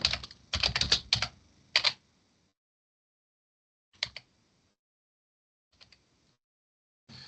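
Bursts of typing on a computer keyboard while an AI image prompt is entered, with a dense flurry of keystrokes at first, then short isolated clusters separated by silence, close and fairly quiet.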